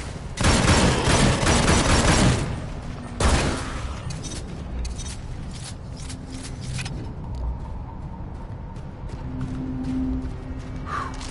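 Rapid bursts of gunfire from a sci-fi shooter, the VR game Farpoint, rattle loudly for about two seconds, followed by another short volley and then quieter game ambience with low rumbles.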